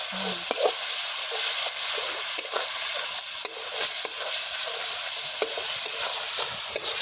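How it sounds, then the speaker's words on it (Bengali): Chicken masala rice being stirred and fried in a pot over a village cooking fire, with a steady loud sizzle broken by frequent scraping clicks of the spoon throughout. "ভালো করে কষাইতে হবে যাতে মশলা কাঁচা ভাবটা না থাকে"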